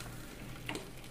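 Pasta frying in a pan gives off a soft, steady sizzle with a light stir or scrape near the end, faint and close, with no talking.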